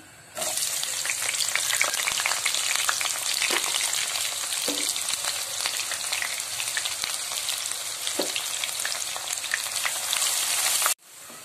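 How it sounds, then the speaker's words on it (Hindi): Onions fry in hot oil over a medium flame for chicken biryani, making a loud, dense, continuous sizzle close by that cuts off abruptly near the end. "ये हमारे मीडियम फ्लेम पे हमारा प्याज फ्राई हो रहा है"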